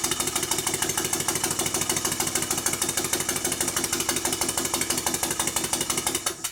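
A Stuart No. 4 steam engine runs on low-pressure compressed air, giving a steady, rapid, evenly spaced chuffing knock that is close and loud throughout, with no talking.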